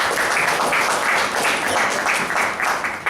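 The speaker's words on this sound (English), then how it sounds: "Give a big round of applause" A Toastmasters meeting audience breaks into a dense, sustained round of applause, many hands clapping steadily at close range for a few seconds.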